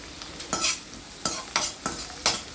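A pan of chicken noodles is stir-fried, with a soft sizzle and a spatula scraping and tossing in four or five distinct bursts, close and fairly quiet.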